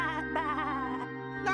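Sheep bleating in the Discworld II video game: one wavering, nasal bleat with a shaky pitch that runs for over a second, loud and close against a steady game background.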